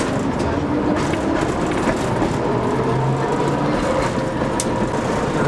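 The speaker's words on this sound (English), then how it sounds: "Riding in a Soviet train." An old Soviet-era passenger train rolls across Donetsk, heard from inside the carriage as a loud, constant rumbling roar with rattling and faint clatter throughout.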